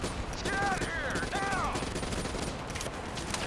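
Enemy gunfire in Call of Duty: Black Ops III, a dense, steady barrage of shots filling the whole moment, with brief whistling tones rising over the din partway through.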